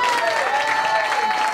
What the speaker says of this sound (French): Est-ce qu'on ne peut pas l'applaudir, ce repas?